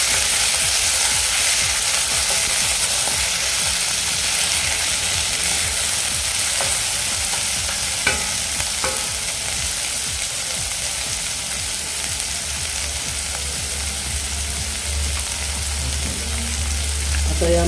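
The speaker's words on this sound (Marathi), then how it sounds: "एक टॉमॅटो चिरलेला घालून घेऊया मिडियम साईजचा टॉमॅटो आम्ही चिरून घेतलेला आहे हे सुद्धा आपण परतूया" Chopped medium-size tomato sautéing in a pan for lapshi upma, giving a loud continuous sizzle and frying crackle with occasional stirring scrapes, with no voices.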